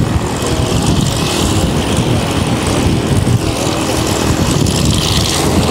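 A homebuilt propeller aircraft on its first flight, its engine droning loud and steady with a buzzing propeller roar that holds constant throughout.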